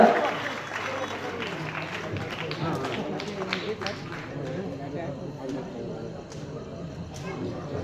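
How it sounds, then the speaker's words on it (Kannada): Sustained clapping from a crowd at an honouring ceremony for guests fills the space, a dense patter that gradually thins out, with a voice speaking over it. "ಜೋರಾದ ಚಪ್ಪಾಳೆಯೊಂದಿಗೆ ಅವರಿಗೆ"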